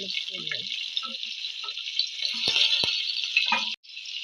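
Shallots, green chilli and garlic sizzle steadily in hot oil in a home kitchen, a continuous bright hiss with a few soft knocks and stirring clicks near the end.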